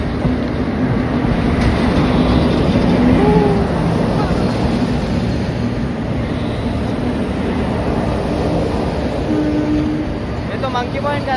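A train rumbles past steadily near a waterfall in the Sahyadri hills by Khopoli, with a constant loud roar throughout.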